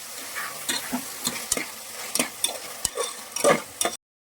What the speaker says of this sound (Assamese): এতিয়া মই আৰু অলপ নিমখ দি কেনে ভালকৈ ভাজি ল'ম সকলোবোৰ ভেজিটেবল